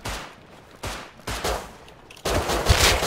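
Gunfire in a shooter video game: several sharp bursts of shots ring out at uneven intervals, ending in a louder, sustained volley.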